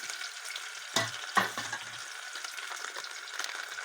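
Onions frying in a pan for a goat mutton curry give a constant close sizzle, with a couple of scraping stirs and clinks near the start and no voices.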